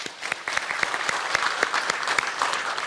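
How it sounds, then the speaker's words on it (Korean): An audience at a media celebration claps, a scattering of distinct hand claps forming moderate, uneven applause at medium distance. "뉴스버스 자랑스럽다고 박수 한 번 더 주십시오."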